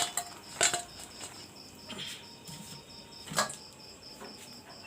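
Fried bread pakoras are lifted out of a pan of hot oil, with light metallic clinks and scrapes of a utensil against the pan over a soft sizzle, no voices.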